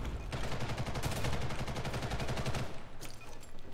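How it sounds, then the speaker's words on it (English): Rapid automatic gunfire from a futuristic M4-style rifle in a video game, a dense, loud, evenly paced burst of many shots lasting most of the moment before cutting off, followed by a short quieter tail. "Shots fired."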